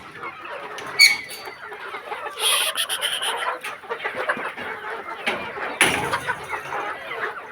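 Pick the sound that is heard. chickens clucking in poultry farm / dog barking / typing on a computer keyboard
chickens clucking in poultry farm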